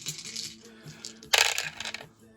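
Dice clatter and rattle in a brief, bright burst on a tabletop during a Warsaw Pact wargame, after a stretch of quiet room sound.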